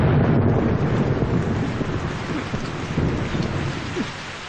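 Steady heavy rain pours down with low rumbling thunder, a dense continuous wash of downpour with a faint distant crack near the end.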